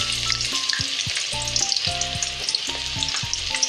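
Onions frying in oil in a pot for dhaba-style lobia masala: a dense, loud crackling sizzle close up, overlaid with a few short tonal beeps or hums.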